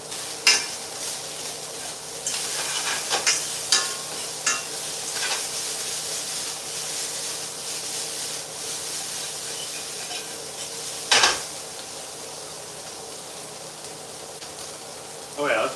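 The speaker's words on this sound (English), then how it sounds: "You hear the sound? It is starting to fry now." Pasta fry in a stainless steel pan, a steady sizzle under occasional metal utensil scrapes and clinks as it is stirred, with a few sharper knocks.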